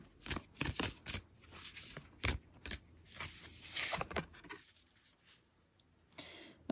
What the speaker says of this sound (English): I'm gonna get a couple of oracle cards to see if we can get some clarity for this quick read